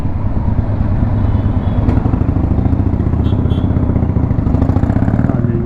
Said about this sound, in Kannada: ಹಾರ್ಲಿ ಡೇವಿಡ್ಸನ್ ಯಾವುದೋ ಗೊತ್ತಿಲ್ಲ